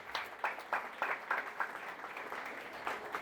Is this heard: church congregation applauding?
yes